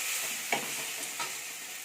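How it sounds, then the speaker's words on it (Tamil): Tomatoes sautéed with rock salt in a pan for vada curry, a soft, quiet sizzle with a couple of brief stirring scrapes, close and alone without speech. "சேர்த்து நல்லா வதக்கிக்கலாம். அப்போ தான் தக்காளி நல்லா வதங்கும்."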